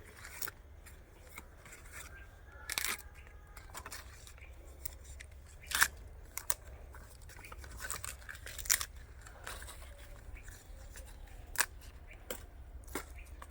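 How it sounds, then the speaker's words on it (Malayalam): Scissors snip through pepper plant leaves, cutting them in half with a series of crisp, close, quiet snips spaced irregularly over a soft background. "ഇതേപോലെ ഇല പകുതി മുറിക്കുക."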